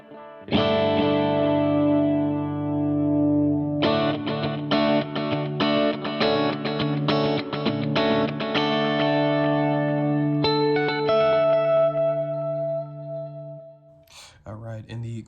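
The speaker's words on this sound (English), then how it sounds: "the first one is going to be a dotted eighth tape delay, very basic, not a whole lot of modulation there" Electric guitar played through a basic dotted-eighth tape delay pedal with little modulation, strummed chords and picked notes ringing out with repeating echoes, loud and close, with a brief voice at the very end.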